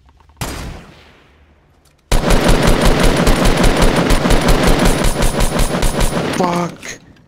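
Automatic gunfire in an online battle video game: a single loud shot with a decaying echo, then a sustained rapid burst of rhythmic shots lasting several seconds, near and loud, with a player's voice.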